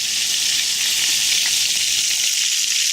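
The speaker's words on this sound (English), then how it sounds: "next up is in the frying pan" Fish patties sizzle steadily in a hot frying pan, a continuous crackling hiss close up with no talking.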